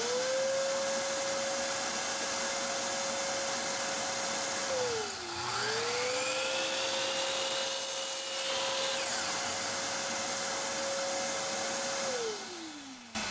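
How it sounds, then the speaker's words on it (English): A shop vac and a miter saw run together off a 3000W 12V inverter, giving a loud, steady motor whine with a brief dip partway through and a spin-down at the end. "a shop vac with the miter saw"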